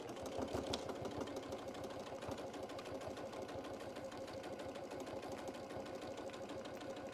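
A sewing machine stitches a bucket hat with a fast, even mechanical chatter of the needle that runs without a break, fairly quiet and close, with no voices.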